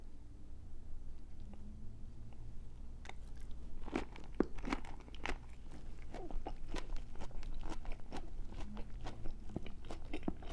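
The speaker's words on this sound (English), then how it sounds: "let's just dig in, starting with a bite of a little bit of appetizer" Biting into a shrimp summer roll dipped in peanut sauce, with repeated close, crisp crunching and moist chewing sounds in an uneven rhythm.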